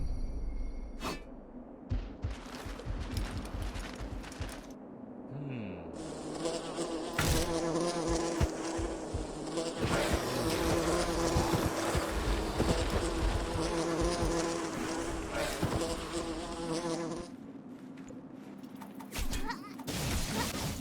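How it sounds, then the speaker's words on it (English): Bees swarm from thrown beehives in the online role-playing game Revelation Online, a dense continuous buzzing that fills the scene for about twenty seconds, mixed with game effects, impacts and clatter. "toss the beehives at the Wingar and let the bees disrupt their formation"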